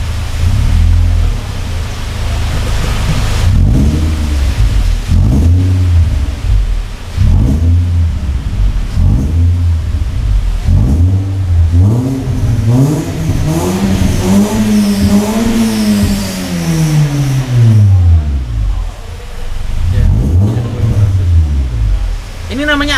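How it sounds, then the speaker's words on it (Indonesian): A car engine revs repeatedly in a workshop after piggyback ECU tuning, its pitch climbing and falling through several loud pulls close by, with people talking over and between the revs. "Oke, coba digas."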